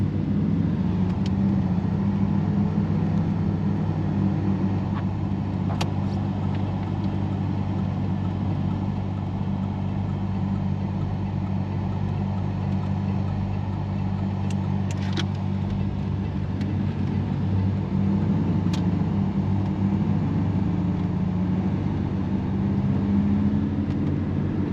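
A 1989 Camaro RS engine hums steadily from inside the cabin, a continuous low drone of driving with faint rattles and no talking.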